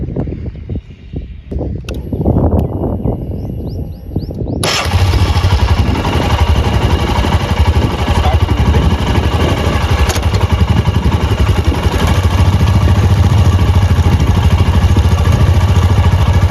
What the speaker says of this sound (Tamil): இப்போ நம்ம ஃபஸ்ட்டு வண்டியை ஸ்டார்ட் பண்ணிக்கலாம்.